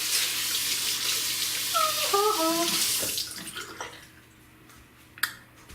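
Water from a tap runs and splashes onto a small face mask palette to wet it, a steady rushing flow for about three seconds before easing off, then a brief clack near the end.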